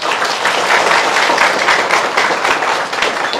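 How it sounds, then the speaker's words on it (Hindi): Sustained, dense applause from a large crowd at an outdoor awareness-campaign gathering led by a police officer, loud and steady throughout with no talk over it. "इसी बात पर जो भी रूल बनाया होगा एक बार ताली बजा दीजिए सब लोग।"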